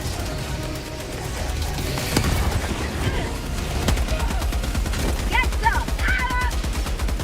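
Rapid laser weapon fire in a shooter video game, dense repeated bursts of shots with impacts and explosions, loud and continuous, with electronic chirps and a voice talking over the action.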